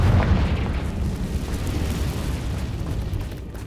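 Confringo fire spell explosion in Hogwarts Legacy on Nintendo Switch: a loud, deep booming burst that rolls into a sustained low rumble for several seconds, with no voices.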